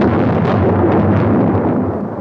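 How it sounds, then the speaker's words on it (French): Dense, continuous rumble of artillery shelling at Verdun in 1916, a loud unbroken roar of distant explosions with no distinct individual blasts. "Mais le 22 à midi, l'artillerie reprenait son effort."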